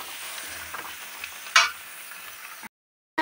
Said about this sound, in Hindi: हाँ, मैंने तड़का लगा दिया है।